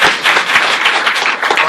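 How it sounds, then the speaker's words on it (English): An audience in a township gathering applauds, a dense continuous patter of many hands clapping, loud and close, lasting throughout. "Let's give Sharon a round of applause."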